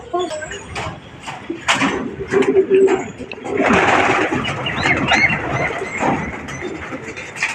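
Racing pigeons coo softly in a loft where they have laid eggs, with throaty murmurs mixed with wing flutters and clattering movement, while people talk nearby.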